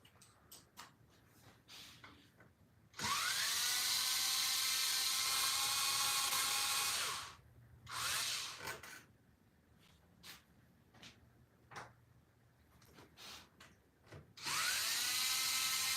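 A power tool whirs in two loud bursts during a Blackbone 2-speed install, each spinning up with a rising whine, separated by quieter clicks and handling noises.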